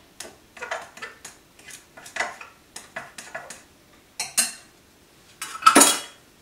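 A utensil clicks and scrapes rhythmically against a bowl while flour, baking powder and salt are mixed together, light regular taps with a few louder clinks near the end, close and without talk.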